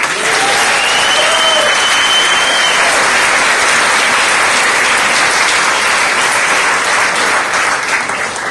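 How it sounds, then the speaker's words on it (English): Loud, continuous audience applause fills a hall at a Mexican Independence anniversary celebration in Los Angeles, a dense wash of clapping lasting several seconds without letting up. "Let's give a big round of applause to Carlos García de Alba."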